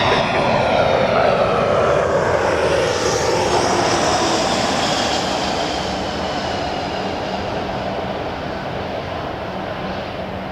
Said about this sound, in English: You can see the planes coming in over my head.